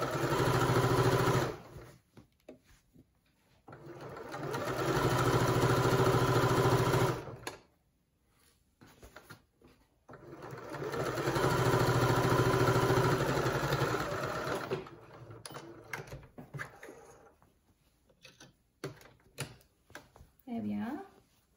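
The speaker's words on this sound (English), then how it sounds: "So I'm just going to do a couple of back stitches." Domestic sewing machine stitching a seam on pyjama pants, with back stitches: two long steady whirring runs of several seconds each, broken by pauses with handling noises and a brief voice near the end.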